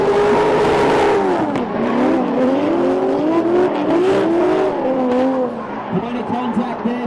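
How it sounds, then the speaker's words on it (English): A drift car at a D1WA drift competition, Round 5 Top 32, revs hard and continuously at close range, its engine pitch sweeping up and down, with a commentator talking over it. "We are drifting"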